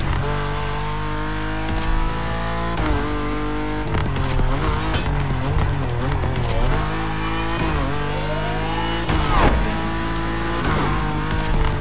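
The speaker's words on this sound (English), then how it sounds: "Those electric hypercars sound crazy." Electric hypercars racing off-road in The Crew Motorfest video game, loud whining motor tones rising and falling through repeated accelerations, with sharp tire squeals and skids throughout and no talking.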